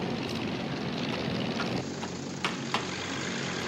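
Cartoon zeppelin airship engines run with a steady, loud propeller-like drone and broad mechanical roar. Two brief knocks sound near the end.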